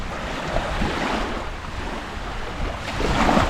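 Waves wash onto a beach on Koh Samui, a soft continuous surf rush mixed with wind noise across the microphone, swelling slightly toward the end.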